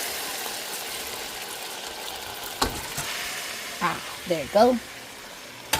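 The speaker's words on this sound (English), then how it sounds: "with the butter and the oil, I'm going to now add my rice." Washed parboiled rice sizzles as it sautés in butter and oil, a continuous close fry with a few scraping stirs toward the end, while a person speaks briefly over it.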